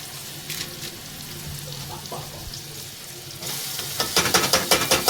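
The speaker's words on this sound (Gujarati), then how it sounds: "મારા મમ્મી વઘાર કરે છે મસાલાનો." A home kitchen where masala for a bread topping is tempered in hot oil. A quiet sizzle with faint stirring runs at first, then the sizzling turns louder and more agitated with repeated crackling bursts near the end.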